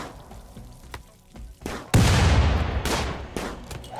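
Rimworld gunfire during a raid: quiet scattered pops at first, then a loud sustained fusillade of overlapping shots and booms from about two seconds on, with further sharp cracks punctuating the din.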